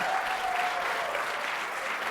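A live audience at a WWDC talk show event claps in a sustained, fairly distant round of applause, an even wash of hand claps filling the room with no voices standing out.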